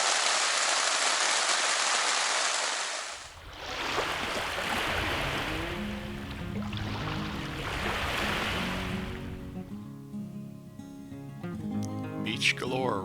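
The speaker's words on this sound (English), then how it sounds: "We had a whale of a downpour." Heavy rain pounds on a tent at night, a dense hiss that is loudest at first, then continues more softly under murmured talk and other faint sounds.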